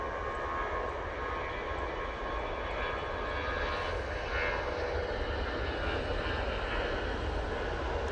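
An EasyJet airliner departs Manchester Airport, its engines a steady broad roar at a distance that swells slightly midway and holds on without talk.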